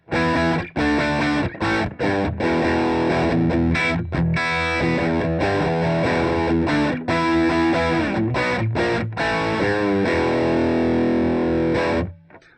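Heavily overdriven electric guitar through a NAM Parametric Overdrive at full drive, loud and saturated, playing chords and riffs with brief stops between phrases, ringing out to silence at the end.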